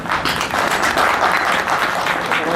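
Steady, dense applause from an audience at a Hindi poetry recital held for Republic Day in Nand Gram, Ghaziyabad, many hands clapping evenly and loudly throughout without a break.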